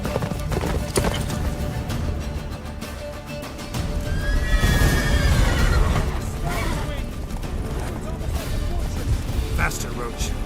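Galloping horse in The Witcher 3 video game, rhythmic hoofbeats clip-clopping steadily throughout, with a loud whinny partway through amid game music and booming effects, and a character speaking over it.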